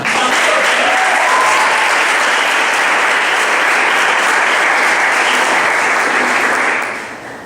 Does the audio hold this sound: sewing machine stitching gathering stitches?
no